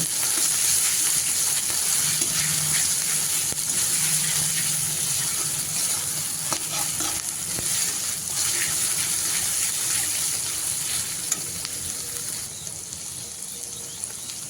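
Cumin and chili paste fry with onions in a pan, giving a steady close sizzle with gushing, watery hiss and occasional stirring scrapes, continuous throughout with no talking.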